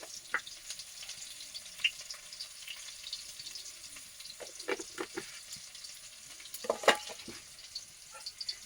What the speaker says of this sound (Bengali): এবার দিয়ে দেব পেঁয়াজ কুচি একটু দিয়ে দেবো গোটা জিরে